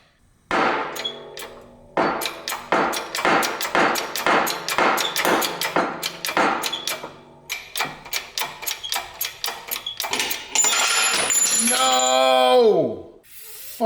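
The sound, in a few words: brake rotor dropped onto the ground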